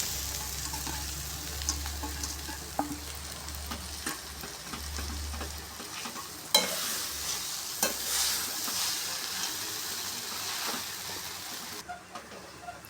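Soaked flattened rice (aval) being stirred into a frying pan for aval upma, with a steady sizzle and repeated scraping strokes of the spatula, close and continuous with no talk.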